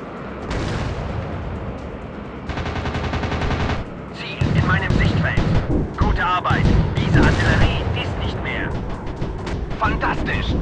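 In a video game, a Messerschmitt Me 262 fires its 30mm cannons and rockets: loud bursts of rapid cannon fire and booming blasts come in long sustained runs, with radio voices in the mix.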